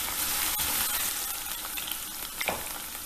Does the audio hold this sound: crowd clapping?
no